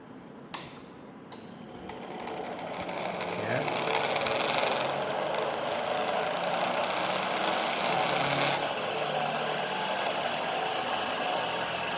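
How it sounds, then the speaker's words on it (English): A homemade single-phase BLDC motor, run from an L298 dual motor driver at 11 volts, spins up after a few clicks into a steady high-speed whir with faint mechanical rattle, close and continuous. "The single phase powerful motor is running with high speed."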